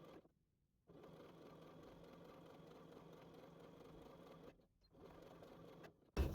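A sewing machine stitches down the edge of A-line skirt fabric with a steady, fast mechanical hum. It stops briefly near the start and again toward the end, then resumes, with a sharp clatter at the close.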